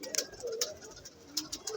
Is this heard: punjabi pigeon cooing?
yes